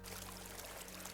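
River water flows in a steady, unbroken rush, a close and even wash of noise with no talking over it.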